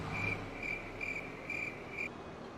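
Crickets chirp at night in the farming game Farming Simulator 22, a faint, regular series of five bright trills spaced about half a second apart over a soft background hum.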